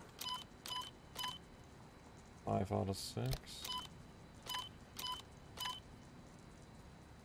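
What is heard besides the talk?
beeping puzzle panels in video game Resident Evil 4 Remake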